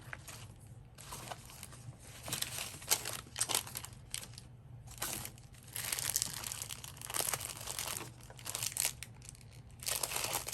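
Glassine paper crumples and crinkles during papercraft work, close and loud in repeated bursts of crackling with short pauses between.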